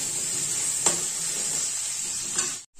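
Potatoes fry with onions in a pan, giving a steady close hiss of sizzling oil broken by two soft stirring scrapes, with no voices.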